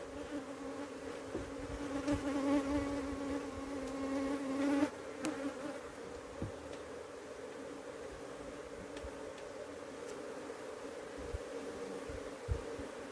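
Honeybees at a hive drone in a steady, close buzz throughout, with one louder swell of wings near the middle before it settles back to an even hum.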